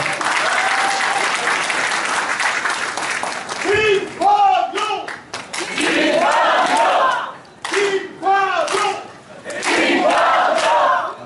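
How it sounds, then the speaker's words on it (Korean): Loud, sustained applause from a large crowd welcoming a speaker at a year-end political party meeting in a wedding hall, with cheers and shouts rising over the clapping. "큰 박수로 맞이해 주시기 바랍니다"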